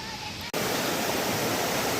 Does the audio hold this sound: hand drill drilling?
no